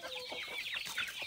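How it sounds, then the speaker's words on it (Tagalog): Free-range native chickens cluck and squawk nearby in a mountain banana grove. The calls come in short, scattered bursts with no talk. "Ito yung mga alaga nating mga native na manok."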